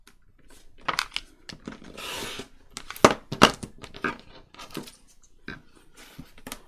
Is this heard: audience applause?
no